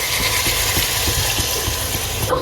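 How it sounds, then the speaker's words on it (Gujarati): Water gushes steadily into a pot of kransa (dhagra) fish curry, a continuous close pouring rush with faint rhythmic pulses, and no one speaking. "હવે આમાં નાખી દેવાનું છે પાણી"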